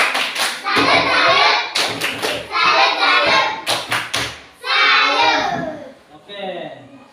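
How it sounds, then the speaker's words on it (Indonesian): A class of children performs a rhythmic 'tepuk salut' clapping routine for a student group, sharp patterned bursts of claps and thumps alternating with loud chanted voices. "kita sama-sama memberikan tepuk salut untuk kelompok 2"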